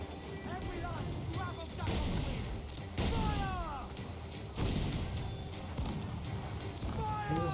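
Repeated mortar blasts ring out in a naval battle in Assassin's Creed 4 Black Flag, heavy booming impacts recurring every second or so amid a constant roar of game action and whistling effects.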